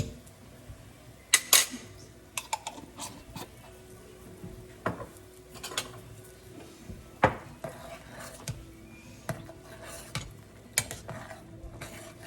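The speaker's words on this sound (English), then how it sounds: "I'm going to stir it a little bit more." Tom yum soup being stirred in a pot, with several sharp clinks of a utensil against the metal rim over a steady low simmering background, close and fairly quiet.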